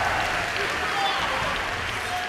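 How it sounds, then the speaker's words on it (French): Audience applause at the Toulouse Game Show 2012 rolls on as a continuous, crowded wash of clapping, with voices talking over it throughout. "Applaudissements, augmentez la puissance là."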